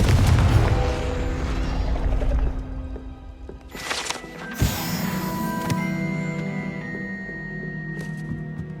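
The Confringo spell blasts in a Hogwarts video game, a heavy booming impact with rumbling debris, followed by sharp cracks and a ringing, tonal magical shimmer that lingers, with no talk.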